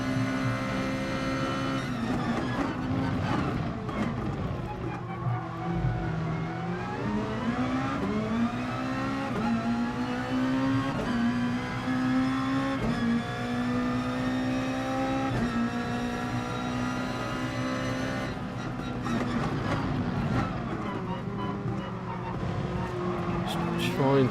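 In GT Sport, a Lexus race car's engine holds a loud, steady drone around the slippery Red Bull Ring, pitch sweeping down under braking and climbing again on acceleration, with light commentary talk over it.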